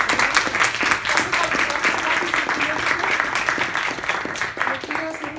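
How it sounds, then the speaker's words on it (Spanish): Sustained applause from a lecture audience fills the room after a talk on yogic experience in medieval mystical poetry, steady and moderately loud, easing slightly near the end. "Bueno, pues un aplauso muy grande a los"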